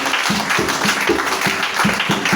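Church congregation clapping together at a worship service, a rhythmic, evenly spaced run of claps filling the room throughout, with a murmur of voices underneath.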